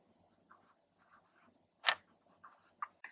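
A pen or marker writes on a board during a physics lecture: sparse soft scratches and taps, then a sharp louder stroke and a few quick marks, close and clear in a quiet room.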